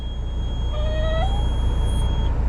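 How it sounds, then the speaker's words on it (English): A black cat gives a single drawn-out meow with a rising, wavering pitch, heard clearly over a steady low mechanical hum. "Is there a black cat running behind you?"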